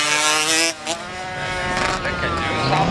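A Honda CBR600 motorcycle at a Dunlop moto gymkhana event, its engine droning loud and close with a steady tone that dips briefly, then revs back up as the bike works through the course.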